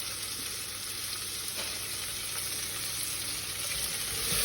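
Curry powder frying in a pan gives a soft, even sizzle with light stirring, steady and fairly faint, swelling a little at the end.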